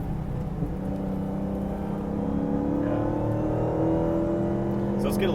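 A 2017 Dodge Charger Hellcat's engine growls with a low, steady rumble that builds gently while driving, heard close from inside the car.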